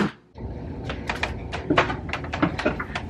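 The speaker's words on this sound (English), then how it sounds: "shut the door." A household door is pushed shut amid a cluster of knocks, bumps and rattles at close range, several sharp clunks spread over a few seconds.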